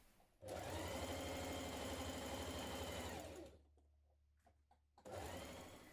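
A sewing machine runs in a fast, even burst stitching a kaftan sleeve seam, stops briefly with small handling clicks, then starts up again, close and clear.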